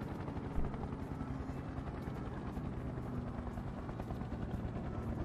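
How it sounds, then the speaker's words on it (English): Steady helicopter rotor thrum in the Second Life virtual world, a continuous pulsing drone holding level throughout, alone without talk. "Helicopter, helicopter."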